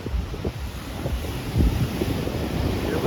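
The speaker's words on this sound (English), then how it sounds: "The waves are a bit crazy today," Strong wind buffeting the microphone with the roar of crashing waves at Chaweng Beach on Koh Samui, Thailand, a loud, continuous rumbling wash with gusts rising and falling throughout.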